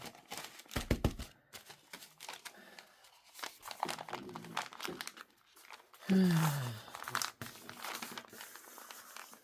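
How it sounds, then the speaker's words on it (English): Sheets of junk journal paper folded and then pressed flat with a bone folder: crinkly rustles and soft scrapes come in bursts, with a louder, firmer creasing stroke partway through, all close and fairly quiet. "Here's the crispy crisp fold with the bone folder."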